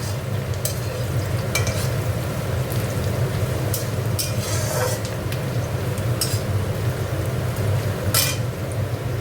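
Onions fry in a pan for Bengali mutton kosha, giving a continuous dense sizzle with a low rumbling undertone and occasional sharper crackles or stirring scrapes, close and steady throughout.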